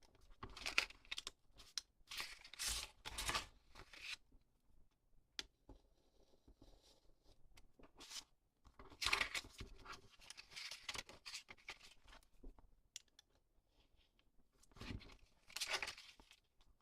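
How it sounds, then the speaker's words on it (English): A craft cutting tool slices through paper in a pop-up card project, giving bursts of scratchy, crinkling cuts separated by quiet pauses, close and fairly soft. "I'm going to use my cutting tool."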